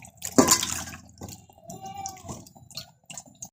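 Coriander leaves freshly picked from the plant are rinsed in water, with a splashy burst at the start followed by lighter sloshing and dripping sounds, close by.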